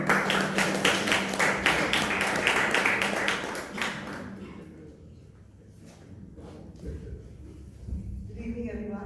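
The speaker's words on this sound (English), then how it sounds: "So give her a round of applause." Toastmasters meeting audience in Bangalore applauding as the next speaker is welcomed, a dense burst of clapping for about four seconds that thins into scattered claps and room noise before a voice begins.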